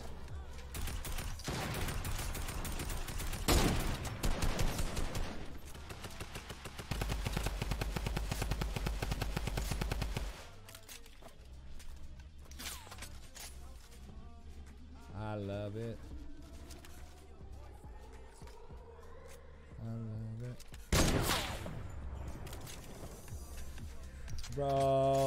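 Gunfire in the video game Fortnite rattles in rapid automatic bursts and single cracks, dense at first and sparser later, mixed with other game effects under frequent player talk.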